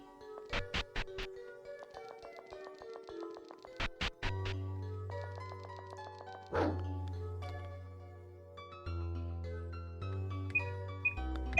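Short game-style dog barks come in two quick clusters early on, sitting over quiet, continuous video game music with beeps and sustained synth notes.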